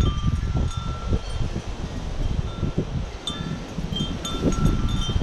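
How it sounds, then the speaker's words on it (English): Strong, steady wind buffets the microphone with low rumbling gusts, and faint birdsong chirps in the background. "it's always so dang windy, just for no reason"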